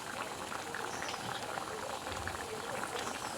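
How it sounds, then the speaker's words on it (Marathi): A pot of taro leaf curry bubbles at a steady boil, thick continuous bubbling and popping, close and moderately quiet. "आता व्यवस्थित आपली भाजीला उकळा आला"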